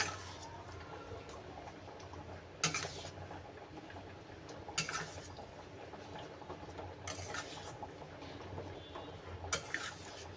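Wheat flour sheera is stirred in oil in a pan, with soft scraping and sharp spoon clinks against the metal every couple of seconds. The sound is quiet and close, with no talking.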